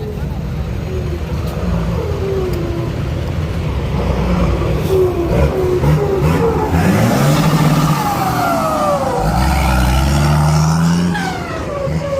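A six-wheel truck engine rumbles and revs during a merit-making procession in Saraburi, a loud ongoing drone that rises and falls, with people talking over it.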